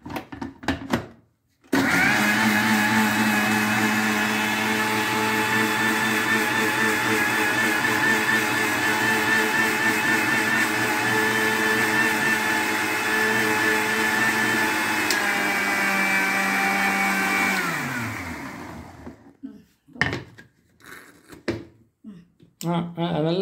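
A mixer grinder runs steadily for about fifteen seconds blending a batter of tomato, sago and rice, then winds down. The loud, continuous motor whine sits amid a few clicks and handling knocks before and after it.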